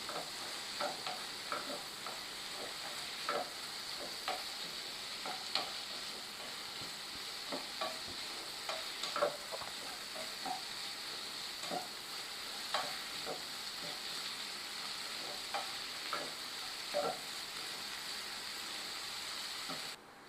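Tomatoes sauté in a pan, softening under a continuous bright sizzle punctuated by regular spoon scrapes and taps throughout, close and fairly quiet.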